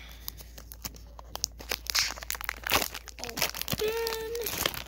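Crinkling and tearing of a thin foil Pokémon Evolving Skies booster pack with sharp scissor snips, close up, followed by brief rustling.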